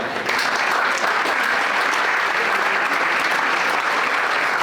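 An audience applauding to welcome guests at a school district event, steady close clapping from a crowd that holds evenly throughout.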